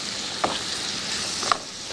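Apple pieces cooking in a pan for a crepe filling, a soft continuous sizzle with two brief spatters or stirring clicks, heard close and fairly quiet with no talking.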